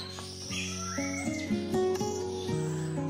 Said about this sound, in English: There's a bird here.